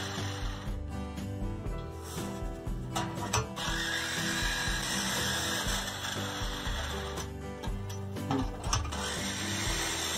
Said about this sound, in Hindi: इस समय जो हम कटिंग कर रहे हैं इसमें मेटल काटने का ब्लेड लगा है।